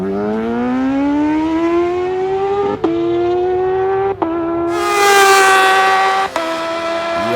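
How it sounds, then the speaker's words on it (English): A Kawasaki H2 motorcycle on a drag-race run, its engine note climbing steadily through each gear with sharp brief breaks at the shifts, loud and close, the pitch rising as it accelerates down the strip. "that is a Kawasaki H2, 10 flat, 151 miles an hour to 1241"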